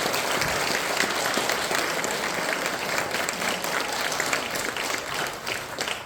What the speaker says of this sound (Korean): 한번 먼저 박수하고 환영합니다